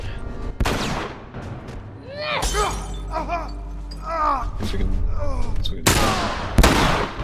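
Heavy gunfire in The Last of Us: loud, sharp blasts ring out several times amid shattering and crashing effects, with shouting and game voices mixed in between the shots.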